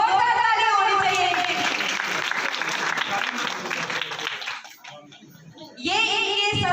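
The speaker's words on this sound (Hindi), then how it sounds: "एक बार जोरदार ताली होनी चाहिए।" Loud applause from a Women's Day event audience in Nagpur, dense clapping mixed with voices and child chatter, dipping briefly near the end before surging again.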